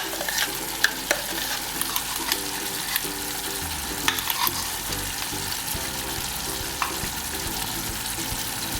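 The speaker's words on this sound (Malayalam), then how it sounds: "ഇതിലേക്ക് നമുക്ക് നമ്മൾ അരച്ച സവാളയും കാഷ്നട്ടും കൂടി അരച്ചത് ചേർത്ത് കൊടുക്കാം." Ground onion and cashew paste frying in a pan for pepper chicken curry, a steady close sizzle with occasional spattering pops and stirring scrapes throughout.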